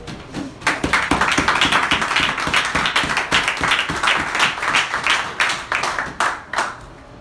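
A church congregation claps together after a scripture reading, a dense, steady patter of many hands close by, holding for several seconds before thinning toward the end.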